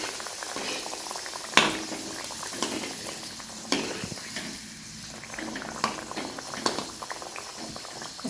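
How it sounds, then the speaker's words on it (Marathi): Kachori frying in hot oil in a kadhai gives a dense, bubbling sizzle throughout, with occasional louder pops and splashes near the start and later, close and without talk. "आता आपण एक एक कचोरी टाकून घेऊया।"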